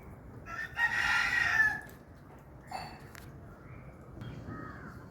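A black rooster crows near hens in a coop, one clear crow close by at moderate loudness, followed by softer clucks and faint rustling.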